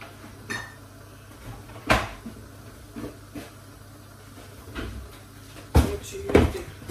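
A lid placed over a pot of Nigerian party jollof rice, with a few sharp metallic clanks and knocks spaced apart, the loudest pair near the end, over a faint background hiss.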